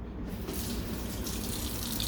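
Running tap water pours steadily into a sink as Qurbani beef is rinsed, a continuous close rushing splash that starts almost at once and holds without pause, with no talking.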